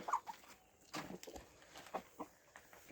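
Chickens cluck and squawk in short, scattered bursts nearby, with faint rustling and movement between calls.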